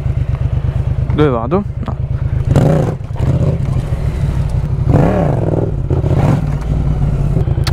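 Large Yamaha MT motorcycle with a 180 rear tyre, its engine idling close with a steady throb and repeatedly revving in short bursts, while people talk over it.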